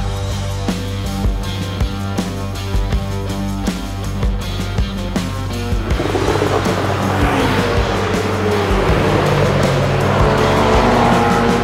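Supercars circle a race track, engines roaring with tire squeal mixed in, the sound growing denser and broader partway through as cars pass close by, loud and continuous with no talking.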